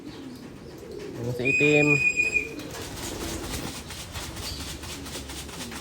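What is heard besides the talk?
racing pigeons cooing and flapping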